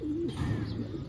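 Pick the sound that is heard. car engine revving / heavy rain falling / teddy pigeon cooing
teddy pigeon cooing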